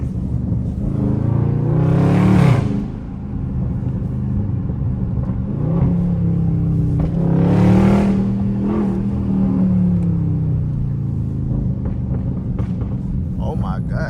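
A 500-horsepower Dodge Scat Pack in a driving video game revs and accelerates in rising surges with exhaust pops, over a steady engine rumble, while someone talks throughout.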